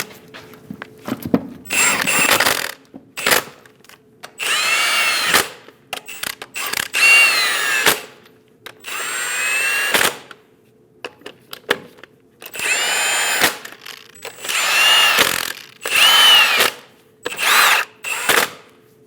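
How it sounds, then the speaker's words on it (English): A power tool spins and snugs lug nuts on a 2001-2006 Chevrolet Silverado 2500 HD front wheel in a series of loud, close whirring bursts with ratcheting clicks, separated by short quiet gaps. "Snug down all the lug nuts."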